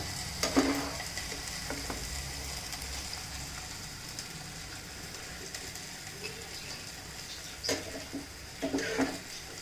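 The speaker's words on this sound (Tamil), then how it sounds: "காலிஃப்ளவர் நல்லா ஃப்ரை ஆயிடுச்சு" Cauliflower fries in a pan with a soft, steady sizzle, broken by occasional scrapes and clinks as it is stirred, loudest near the start and the end.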